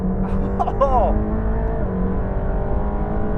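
A Mercedes-AMG GT Black Series flat-plane crank engine hums steadily with a raspy, even tone while a voice talks over it, a brief rising whine appearing early on.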